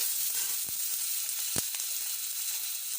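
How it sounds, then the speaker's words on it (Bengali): Chopped onions fry in oil until brown, a steady, moderately quiet sizzle with two sharp knocks from stirring against the pan. "আমি এখানে পেঁয়াজ কুচি দিলাম এটা একটু বাদামি করে ভেজে নিচ্ছি"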